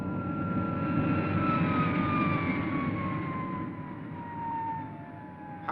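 An aircraft switching over to vertical flight gives a steady, loud engine drone with a high whine that slides gradually downward in pitch, heard alone and continuous.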